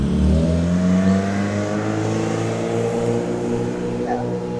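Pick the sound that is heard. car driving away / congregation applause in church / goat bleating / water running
car driving away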